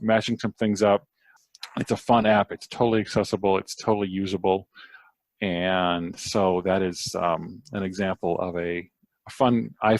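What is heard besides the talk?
None of the usual background noises is heard.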